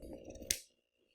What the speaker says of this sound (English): Now what I'm going to do is I'm going to cut it along this line.